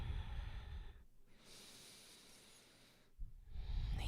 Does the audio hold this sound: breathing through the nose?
yes